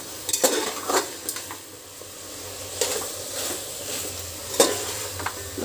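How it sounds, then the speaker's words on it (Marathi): Mutton frying in oil with turmeric and salt, with steady sizzling under repeated scraping and stirring clinks of a utensil against the pan at irregular intervals. "मटणाला चांगलं 5 मिनिट असंच हळद आणि मिठामध्ये परतून घ्यायचं आहे."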